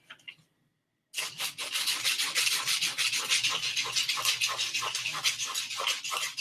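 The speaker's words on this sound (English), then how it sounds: "Just do a light sanding on that handle, make it flat right here and pointy right here" A carved wooden handle is lightly sanded with quick back-and-forth rubbing strokes in a steady rhythm, close and fairly loud, after a brief quiet moment.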